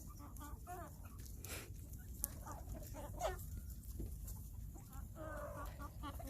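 A throaty young rooster crows and clucks among other chickens in a barnyard, its calls repeating several times at moderate distance over steady low farm background noise.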